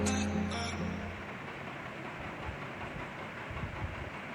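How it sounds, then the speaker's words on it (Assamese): Passenger train with sleeper coaches on the Guwahati to Bokakhat route, heard from inside as a steady low rumble of carriages and rail noise, with a brief tonal whine or horn-like blast near the start. "এইখন হ'ল আমাৰ ট্ৰেইন। আমি ট্ৰেইনত উঠিলোঁ"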